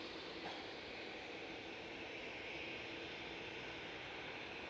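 Boeing Dreamliner airliner at Manchester Airport, a steady, broad jet roar held at a distant, even level with no break.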